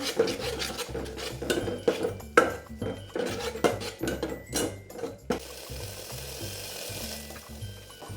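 Ground chili paste fries in a pan with softened tomatoes for taro-leaf sambar, with rhythmic, close scraping and clinking of a spoon against the pan, then a steadier sizzling hiss.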